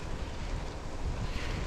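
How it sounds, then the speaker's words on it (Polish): Strong wind roars steadily, buffeting the microphone with a dense, rumbling hiss and no let-up. "wieje bardzo mocny wiatr."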